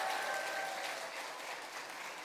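Soft, fairly distant applause from a church congregation during a Thanksgiving service, a brief wash of clapping that fades slightly toward the end.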